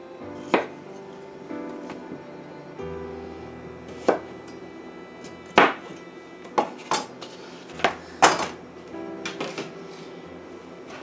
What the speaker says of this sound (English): We have our potatoes diced.